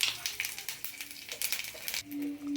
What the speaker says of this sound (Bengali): হিং, শুকনো লঙ্কা আর জিরে ফোড়ন দিয়ে দিলাম।